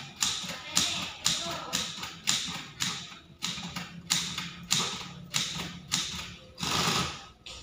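Keys strike rapidly on a typewriter in rhythmic bursts of clacks, with short pauses between bursts. The sound is close and fairly quiet.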